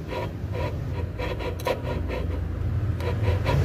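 Rough, sawing-like grinding from inside a worn car gearbox, a scraping rasp that comes in repeated strokes, close and fairly loud, with no talking over it.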